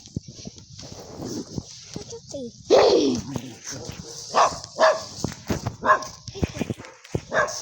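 Dogs bark in short bursts at a moderate distance while a person talks nearby, with outdoor background noise throughout.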